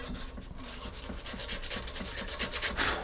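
Small piece of sandpaper scrubbing rust off the magnets of a new, never-used lawn mower that won't start: quick, steady back-and-forth rasping strokes, close and fairly quiet, with no talk.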